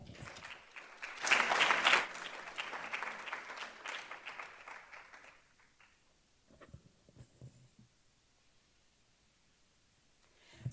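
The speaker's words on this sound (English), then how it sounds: "So a round of applause for them" A college Hispanic Heritage celebration audience gives applause for Hispanic professionals, a burst of clapping that swells and then fades over a few seconds into a quiet room with faint scattered sounds.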